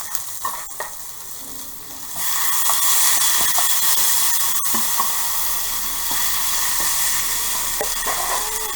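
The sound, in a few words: beef searing in a hot wok on an electric stove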